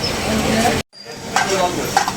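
Food fries and is stirred in a busy small hotel kitchen in a Bogura bazaar, a loud, close sizzle with scraping stirs, broken by a brief moment of silence before the crackling resumes.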